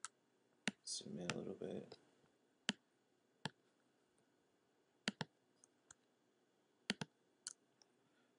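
Sharp, isolated computer mouse clicks come close and crisp, spaced irregularly with quiet gaps between them, some in quick pairs, while someone speaks briefly near the start.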